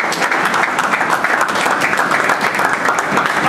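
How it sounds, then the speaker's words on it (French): A church congregation at a French-language service gives a loud, dense round of applause that holds steady throughout. "Acclamons pour la parole de Dieu."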